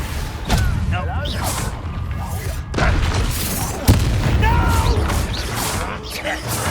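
In Hogwarts Legacy the Confringo spell goes off amid combat, with several deep booming blasts and sharp impacts over swirling magical effects and background game sound.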